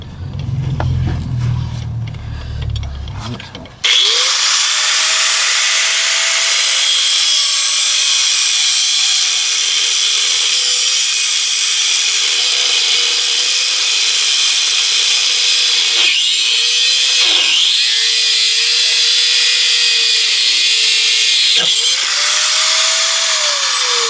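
An angle grinder cuts through a seized sway bar end link on a car, a loud, steady high-pitched whine with grinding grit that starts abruptly after a few seconds of low rumble and runs continuously, dipping briefly as the load shifts.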